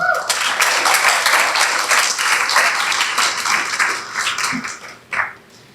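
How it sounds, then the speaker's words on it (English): Sustained applause from a graduation ceremony audience, dense clapping filling the hall at a steady level before tapering off near the end, with a brief louder burst. "So we still applaud the ones who did not make the 5 subjects and more for being here."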